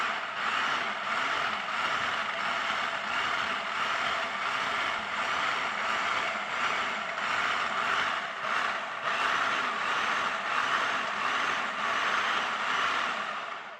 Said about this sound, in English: I put the lid back on the food processor, the butter is sprinkled in there. I'm just going to pulse it again